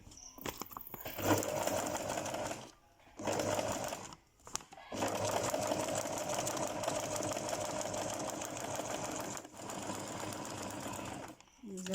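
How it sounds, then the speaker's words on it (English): A sewing machine stitches a seam through fabric in long, steady whirring runs, stopping briefly several times before starting again, with a voice talking over it. "this time around I'm going to sew through the line very well"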